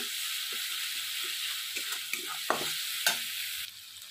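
Ginger and turmeric powder sizzle in a hot pan, stirred with a spoon that scrapes and taps in an irregular rhythm. Two sharper clacks ring out near the end, and the frying hiss thins away at the close.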